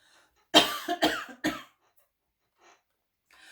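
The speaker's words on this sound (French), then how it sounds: "je tousse encore, pas facile" Three quick, harsh coughs in a row, close and fairly loud, followed by quiet breathing and a faint rustle.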